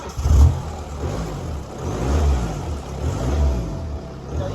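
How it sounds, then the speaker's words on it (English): A BMW 3 Series 318D diesel engine runs with a damaged exhaust flex pipe, giving a low, throbbing rumble that swells in slow rhythmic pulses close by, with no talking. "Let's start it up and show you what it sounds like."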